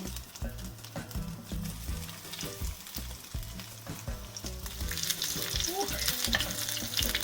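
Lazy pies of dough sizzle and crackle steadily in hot sunflower oil, with occasional soft clinks and scrapes of placing them in the pan.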